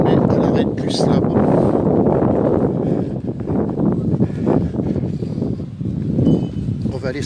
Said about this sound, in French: Le vent il vient vers moi